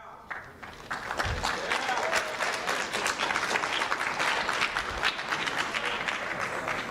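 High school students in an auditorium break into loud, sustained applause, many hands clapping densely and continuously after a brief quieter start.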